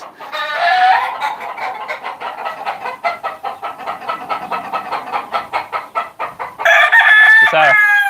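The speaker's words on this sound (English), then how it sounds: "let's go see the chickens" Chickens at a shop cluck in a rapid, rhythmic run of short calls, close and loud, ending with a long rooster crow.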